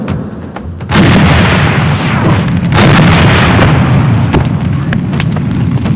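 A heavy, booming bomb blast in a building complex erupts after a quieter rumble, followed by sustained loud roaring and crackling debris with a few sharp pops.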